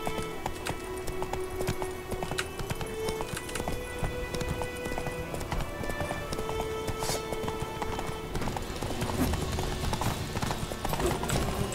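A horse gallops in The Witcher 3, a steady rhythmic run of hoofbeats with game ambience and music behind, fairly faint throughout.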